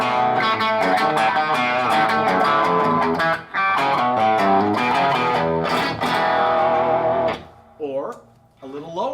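A Gretsch electric guitar played through a Carr amp set to 1.5 watts gives a clean tone, with strummed chords and picked notes ringing steadily before thinning into a few sparse, decaying notes near the end.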